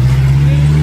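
An odong-odong open shuttle car carrying visitors uphill at a tourist site gives a steady, low engine drone, close and continuous without a break.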